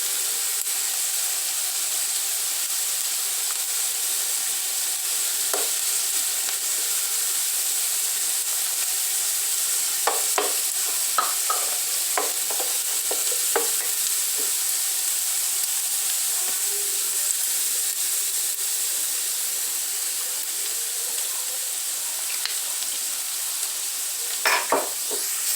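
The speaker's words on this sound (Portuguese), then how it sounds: "Vamos dar aquela boa refogada no alho, na cebola." Garlic and onion sauté in a hot pan for feijoada, giving a steady, fairly loud hiss of frying with occasional light stirring clinks and scrapes.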